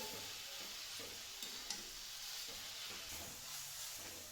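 Grated carrots fry over a full flame for carrot halwa, a faint steady sizzle with soft scraping stirs and a couple of light clicks against the pan.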